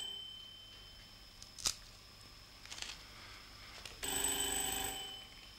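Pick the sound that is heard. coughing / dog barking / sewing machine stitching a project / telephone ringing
telephone ringing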